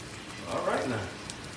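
Heavy rain pours outside as a steady, dense hiss of drops hitting surfaces, rising briefly to a louder wash in the middle.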